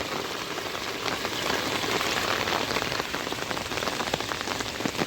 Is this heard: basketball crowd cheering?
no